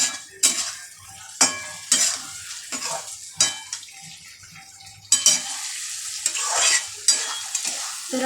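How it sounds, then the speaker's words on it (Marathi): Potatoes stir-fried in masala in a pan for a festive potato and pea curry, a spoon scraping and stirring in repeated bursts over a steady close sizzle, with no talking. "बटाटा पण चांगल्या मसाल्यामध्ये परतून घ्यायचा आहे."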